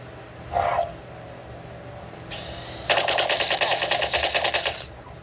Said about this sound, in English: This is the ceiling turret.